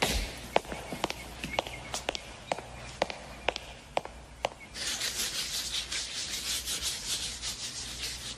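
A floor scrubbed by hand with a brush, first a series of separate rubbing strokes, then a continuous brisk scrubbing, close and fairly loud.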